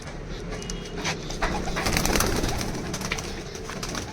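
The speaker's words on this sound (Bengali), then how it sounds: "এক ঝাঁক কবুতর প্রায় তিরিশ পঁয়ত্রিশ পিস মালবাই কবুতর" A flock of some thirty to thirty-five white Mirabel pigeons coos together, a steady layered murmur of soft overlapping calls with no voices over it.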